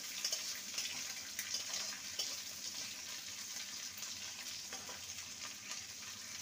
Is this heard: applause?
no